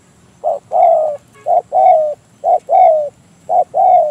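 A spotted dove coos in steady repeated phrases, each a short note followed by a longer drawn-out coo, loud and close against a quiet background with no talking.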